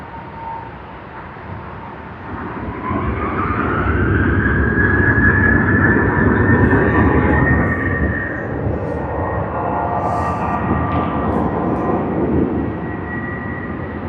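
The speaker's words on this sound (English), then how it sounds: "Let's capture that takeoff." A Virgin Australia Boeing 737 departing Sydney Airport for Adelaide: a steady, building jet roar that rises to full takeoff power and holds at a moderate distance, with no talk over it.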